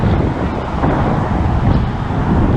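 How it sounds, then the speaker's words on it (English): Strong wind buffeting the microphone at the top of a water slide at a resort water park, a continuous low roaring rush with no voices. "It's windy up here, so sorry for that."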